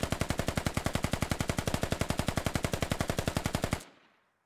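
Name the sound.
machine gun fire in a video game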